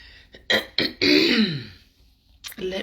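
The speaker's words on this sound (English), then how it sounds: "Let me clear my throat." A person clears their throat with several rough, raspy bursts, loud and close, with brief pauses between them and a short vocal sound at the end.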